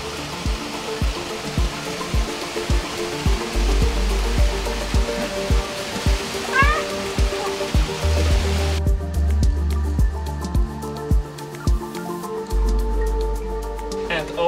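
Small waterfall at Cascada Pequeña on Gran Canaria, a steady close rush of falling water with faint ticking drips and some talk nearby.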